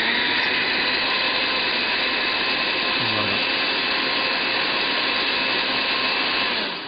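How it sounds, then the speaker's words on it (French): A blender whirs at a constant pitch, mixing fruit pulp with ratafia. The motor runs as a steady, loud drone for the whole stretch, with no pauses. "Et après, il y a juste à mixer."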